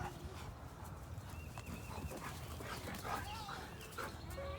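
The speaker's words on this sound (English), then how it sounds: "Dogs are being wild right now, playing like crazy, actually." Dogs playing wildly in a spring garden, with scuffling, panting and thumping paws, moderately loud and continuous, with a person talking faintly over it.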